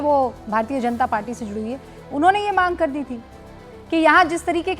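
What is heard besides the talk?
No distinct noise like a dog, phone or traffic.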